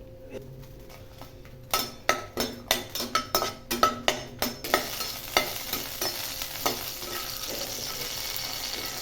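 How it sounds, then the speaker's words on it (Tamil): Chillies frying in a little oil in a kadai: a run of sharp crackles and spatters, close and fairly loud, gives way to a steady hiss of sizzling oil. "கொஞ்சமாக எண்ணெய் விட்டுக்கிறோம் நம்ம எடுத்து வச்சிருக்கிற மிளகாயை வறுத்து"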